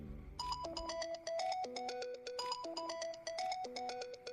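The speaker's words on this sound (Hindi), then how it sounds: "थोड़ी देर बाद उसका फोन फिर से बजा।" Phone ringtone ringing as a horror-story sound effect, a bright electronic melody of stepped tones repeating in a steady pattern, loud and alone.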